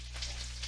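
Carrots, broccoli and cauliflower for a chicken stir fry fry in a pan, giving a soft, steady sizzle with light crackle over a low hum, fairly faint and without talk.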